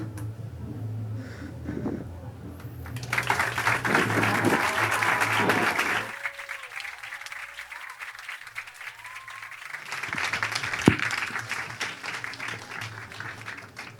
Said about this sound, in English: Can we please have one more massive round of applause for the cause?